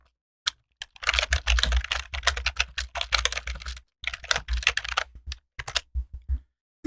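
Code is typed on a computer keyboard in close, crisp clusters of key clicks, with quick flurries broken by short pauses and a few isolated taps, heard alone.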